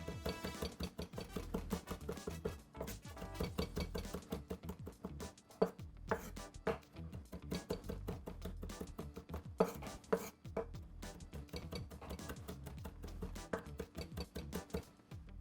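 A knife rough-chops fresh lemon thyme on a cutting board in quick, close, steady taps for about fifteen seconds, with brief pauses and no talking.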